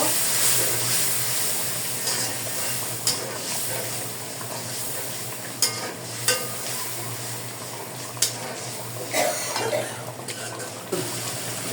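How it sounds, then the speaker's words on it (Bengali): Spice paste with chilli and a little water being stir-fried in a pan in a home kitchen, a continuous moderate sizzle broken by sharp clinks of a spatula against the pan; no talk. "এখন মশলাটাকে ভালো করে কষিয়ে দিব"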